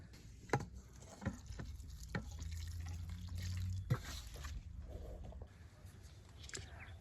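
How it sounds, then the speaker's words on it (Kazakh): Liquid chicken-manure fertilizer poured from a container onto the bases of tomato plants in a garden gives soft, intermittent splashes and drips over a low steady hum, with no talking. "Қалған қызанақтарға да осылай құйып шығамыз."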